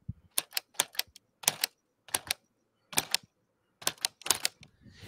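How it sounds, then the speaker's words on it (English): Keys clacking on a LEGO Ideas typewriter model, sharp mechanical strikes coming in quick irregular clusters separated by short pauses, close and clear with no talking. "It sounds like a real typewriter."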